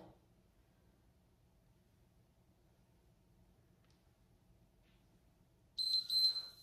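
After several seconds of near silence, a short, high-pitched electronic workout timer beep sounds near the end, bright and piercing.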